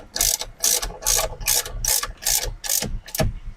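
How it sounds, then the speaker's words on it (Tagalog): A ratchet fitted with a 19 mm socket tightens a bolt on a Nissan Navara, clicking in eight quick, even bursts, loud and close, with no talk over it. "gamitan ulit natin ng socket na number 19"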